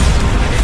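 A Bombarda spell detonating in Hogwarts Legacy: a single loud, close, booming burst that fills the short moment with rumbling low-end impact and no talk over it.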